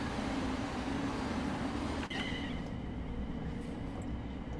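Continuous rumbling train noise from Train Sim World 3, a steady, loud rolling roar with a brief dip midway followed by faint high tonal whines over the ongoing drone.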